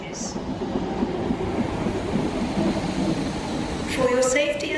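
Train running on rails into a station on the line toward Romford and Shenfield, a steady loud rumble of wheels and carriages throughout, with a brief higher squeal near the end.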